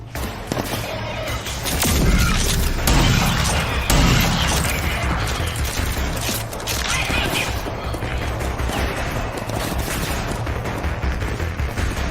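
Shotgun fire and explosive combat in the video game Rage 2: loud, dense bursts of booming blasts and crashes layered with mechanical clatter, continuous and close, peaking in the early seconds before settling into sustained noisy gunfire.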